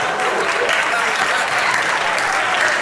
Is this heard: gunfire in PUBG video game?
no